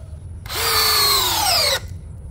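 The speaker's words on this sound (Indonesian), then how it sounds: "Media yang akan kita bor adalah kayu mahoni." A cordless drill in drilling mode whines steadily for over a second as it bores into mahogany, its pitch sagging slightly under load before cutting off.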